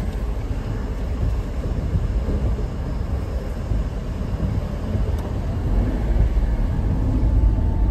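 A local train passes near a roadside during a monsoon trip to a trek, a continuous heavy rumble and rattle that holds steady and swells slightly louder toward the end.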